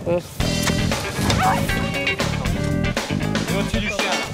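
A hunting dog at a fox den gives repeated yips and excited barks with some whimpering, close by, while people talk over it.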